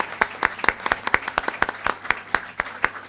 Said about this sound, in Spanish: Damos nuevamente un aplauso a nuestros invitados